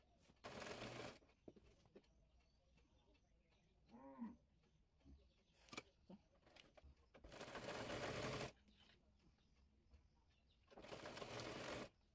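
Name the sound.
sewing machine stitching the piping cloth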